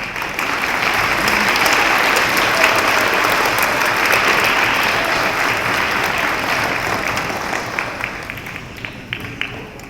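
Sustained loud applause from an audience at an elementary school D.A.R.E. ceremony for students, dense clapping that holds steady for several seconds and then gradually thins out toward the end.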